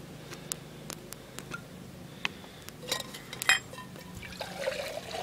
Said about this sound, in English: I'm gonna put some water in here.